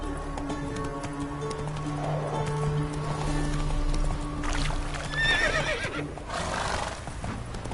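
A horse whinnies loudly and nearby over a steady background hum, with a second shrill neigh shortly after, while hoof steps clop faintly underneath.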